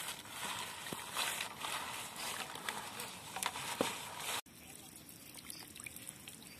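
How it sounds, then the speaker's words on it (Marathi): Water is poured over soybean pods to wash them, giving a patter of trickling and splashing that stops abruptly partway through, leaving low background noise. A voice may be present. "तर परत आपण त्यामध्ये थोडं पाणी टाकून चांगले धुवून घेणार आहोत"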